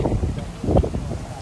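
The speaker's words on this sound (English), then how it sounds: "it is still really windy" Strong wind gusting across an outdoor parking lot, buffeting the microphone in loud, uneven low rumbles with a brief swell in the middle.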